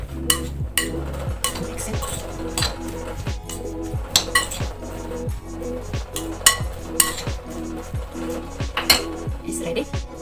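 Utensil clinks and scrapes against a pan repeatedly and close by while egg is mixed with pepper and salt for a simple dinner, a steady run of tapping strokes with a low background tone throughout.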